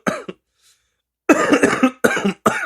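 A person coughs several times in quick bursts, close and loud, with a brief cough at the start followed by a pause and then a run of harsh, raspy coughing fits.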